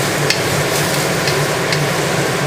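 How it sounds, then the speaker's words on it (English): Garlic and onion sautéing in a pan, moved around with a utensil: a close, dense, continuous sizzle with a few light scrapes and taps, no talking. "just want to move the garlic and onion around."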